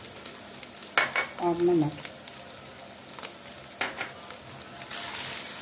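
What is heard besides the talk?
minced meat frying with onion, turmeric and red chilli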